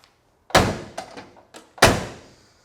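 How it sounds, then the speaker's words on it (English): A 1968 Dodge Super Bee door swings shut with a solid, heavy thunk close by, preceded by a few lighter clunks and taps as it is handled, then a second firm closing thud. "let's shut this door"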